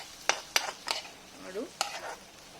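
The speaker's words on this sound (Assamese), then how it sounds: "ডিম মোৰ প্ৰায় ভজা হৈ গৈছে" An egg fries gently in a pan for an Assamese meal of watery rice, with the yolk kept soft and the gas turned off. A low sizzle runs under several sharp scrapes of stirring, spaced irregularly and close by.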